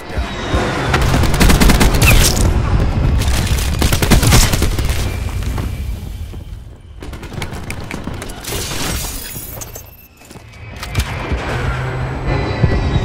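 Thresher aircraft attack gunfire from Call of Duty Black Ops 4 multiplayer rattles in loud, sustained bursts of rapid shots and crashing impacts, easing briefly before resuming near the end.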